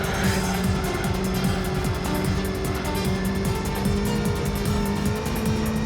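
A Honda Civic racing in the Gran Turismo 3 video game gives a loud, steady engine drone with tire squeal running throughout and no pauses.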